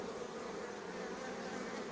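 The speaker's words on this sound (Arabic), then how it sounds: "بدأ النحل ينفخ في الإطارات، بدأ النحل يحاصر الملكة" Honeybees buzzing steadily and close up while the frames of a ten-frame beehive are being inspected, a dense continuous hum with no voices.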